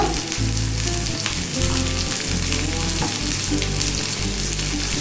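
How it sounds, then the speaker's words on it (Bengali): Dried red chilli and chopped vegetables frying in hot oil in a pan, a loud, steady, close sizzle with crackling throughout, plus faint stirring scrapes now and then, and no speech. "শুকনো লঙ্কা বেশি ভাজতে না ভাজতেই আমি কিন্তু এগুলো ছেড়ে দিলাম।"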